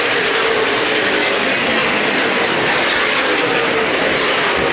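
A field of race cars roars off at the start of the Winchester 400 at Winchester Speedway, a loud, continuous, dense engine drone with no break.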